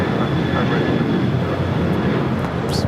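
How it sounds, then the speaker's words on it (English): American Airlines Boeing 737-800 taking off from LAX toward Puerto Vallarta, a loud continuous jet roar with a faint steady whine running over it, no voices. "That was American Airlines 565 taking off to Puerto Vallarta, the 737-800."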